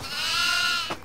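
A single goat bleat from the horror video game Devour, set in a farmhouse: one sustained, wavering cry lasting about a second, fairly loud and close, with a short trailing sound at its end.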